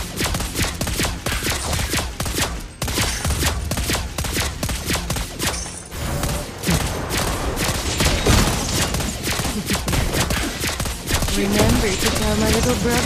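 Rapid, loud gunfire from the Mobile Legends mobile game, with the hero Lesley firing dense volleys of sharp cracks that run almost continuously for about thirteen seconds under layered game effects.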